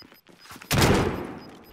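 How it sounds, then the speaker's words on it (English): Gunfire in Call of Duty: Warzone on the Caldera map, one sudden sharp burst of shots followed by a fading tail, after a few faint quieter sounds. "Who in the fuck is shooting?"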